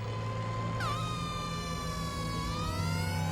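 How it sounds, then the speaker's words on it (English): A fire engine siren wails nearby, its tone rising and falling in long sweeps over a rumbling fire truck engine, loud and sustained. "You have to drive that thing with that wow siren."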